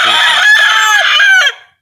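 A three-year-old rooster crows once loudly and close, a sustained harmonic call that starts with a few short clucking notes and fades out cleanly at the end, with no talk over it.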